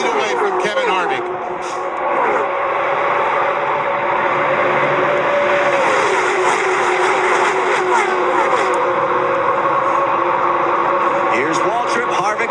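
NASCAR stock cars at the 2001 Pepsi 400 at Daytona roar around the track in a steady, dense engine drone that never lets up, with a commentator talking over it throughout.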